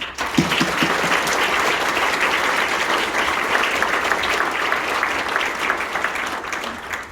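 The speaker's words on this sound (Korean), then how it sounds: "오늘 와주신 내빈 여러분들에게 뜨거운 환영의 박수를 한번 부탁드리겠습니다." At a trade union's annual delegates' assembly, an audience in a hall welcomes guests with loud, dense applause. Many hands clap together in an even, sustained roar for several seconds, and no one speaks over it.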